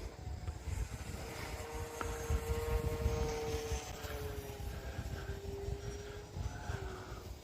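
An E-flite Turbo Timber RC airplane flies over a grass club field, its electric motor giving a thin whining drone that glides up and down in pitch as it passes, moderately distant, over steady background noise.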